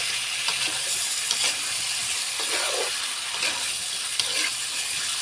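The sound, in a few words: frying stuffed pointed gourd with potatoes, stirring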